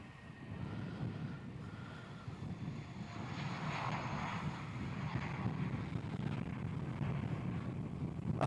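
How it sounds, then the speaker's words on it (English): A Jetstar Airbus A320 takes off full length from runway 34 at Melbourne Airport, its engine roar a broad, steady rumble that swells gradually from a distance. "Jetstar taking off here, full length, runway 34. Jetstar A320."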